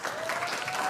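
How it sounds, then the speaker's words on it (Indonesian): Audience applause fills the whole second with dense, steady clapping from a group at an Indonesian teacher-training session. "Kasih aplaus buat Pia."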